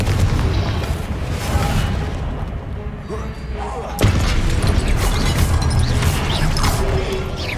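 Confringo blasting spell fired in Hogwarts Legacy, a loud booming blast with crashing impacts, a second burst hitting sharply around the midpoint, all under dense game noise and talk.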